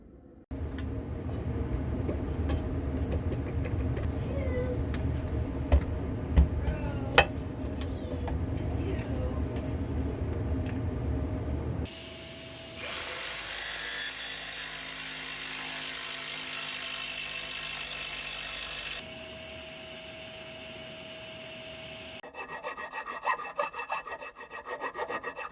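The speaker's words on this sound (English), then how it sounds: "I'm thinking this is aluminum, so it should be easy to cut with the jigsaw" A jigsaw cuts through an aluminum cover, a steady loud rasping buzz that runs for long stretches, changes pitch midway, and stops and restarts in separate passes.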